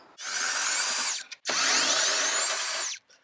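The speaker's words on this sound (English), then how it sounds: "there is not enough space to put my screwdriver in, but I've got this contraption that allows me to get to places like this" Cordless screwdriver fitted with a right-angle attachment backs screws out of an oak sideboard, two sustained whirring runs of about a second and a half each, separated by a short pause, close and loud.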